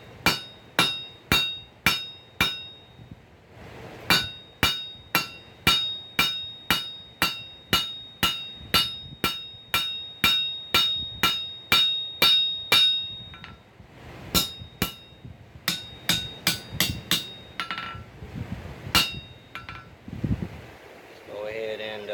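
Steady, ringing hammer blows on an anvil while forging a pair of pick-up tongs, struck in long regular runs with half-face blows, each strike loud, close and sharply metallic, pausing briefly between series before a final flurry of quicker hits.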